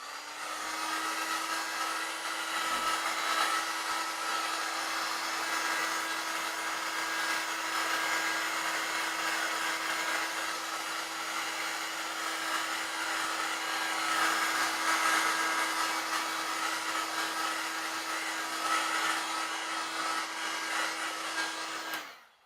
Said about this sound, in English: So we put a heat gun.